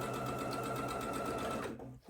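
A sewing machine whirs in one continuous run while chain piecing quilt fabric, close and steady, then slows and stops near the end.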